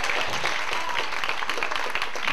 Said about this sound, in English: Man, y'all clapping like that.